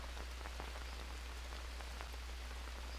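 Rain falls in the jungle survival game Green Hell, a soft, even patter of drops on surfaces with a low steady hum beneath, faint and continuous with no voices.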